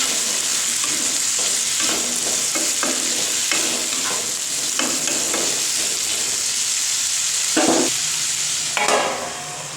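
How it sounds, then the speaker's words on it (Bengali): Potatoes fry in a pan with a constant bright sizzle, broken by repeated scraping stirs and clinks of a utensil, heard up close in a home kitchen. "একটু আলুগুলো একটু ভাজা ভাজা করে নেব"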